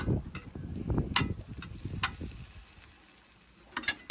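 Butter sizzles in a frying pan while venison wraps are being cooked, giving a faint, steady hiss with a few soft clinks mixed in.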